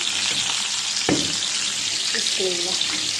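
Hilsa fish fries in a pan in a short burst of steady, close sizzling broken by a clatter of utensils and a brief scraping squeak.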